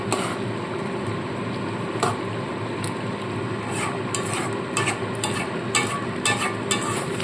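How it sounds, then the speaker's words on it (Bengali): Ghee being stirred into a stuffed pointed gourd (potol dorma) dish in a pan: steady soft sizzling with scraping stirring strokes and occasional light clinks of a utensil on the pan, close and moderately loud, no voices. "একটু ঘি দিয়ে দিলাম হালকাভাবে একটু নাড়াচাড়া করে নিয়ে"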